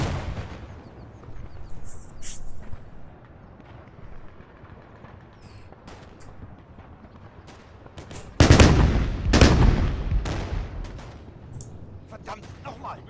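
Artillery fire in the WWII strategy game Combat Mission Red Thunder, scattered booms and sharp reports under voices giving orders in German, building to a loud cluster of heavy blasts near the end.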